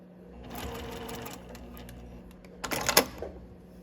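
Sewing machine stitching down the length of a fabric key fob, a close, steady mechanical whirr of fast needle strokes, ending with a brief louder clatter.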